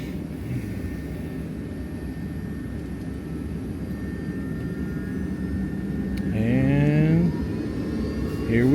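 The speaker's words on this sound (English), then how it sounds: "Oh, and we are taking off." Airplane taking off from Green Bay, Wisconsin, bound for San Francisco, heard from inside the cabin: a steady engine roar that swells louder toward the end as the jet builds takeoff thrust, with a brief voice over it.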